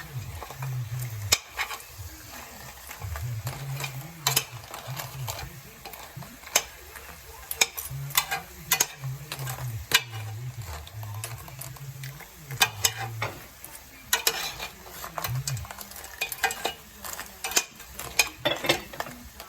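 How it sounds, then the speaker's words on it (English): Crab curry sizzles and fries in a pot while a spoon scrapes and stirs in frequent clattering strokes, with a low hum running underneath. "close the pot and let it fry for a bit. Be sure to stir the crabs"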